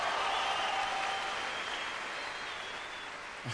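Audience applause at the Miss World 2001 pageant in Sun City, South Africa, a soft, distant continuous patter of a large crowd clapping that slowly fades.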